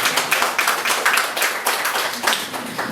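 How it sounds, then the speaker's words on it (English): An audience at a press conference claps together for mothers, a brisk, fairly loud burst of many hands lasting a few seconds with no speech over it. "Let's give a clap to our mothers."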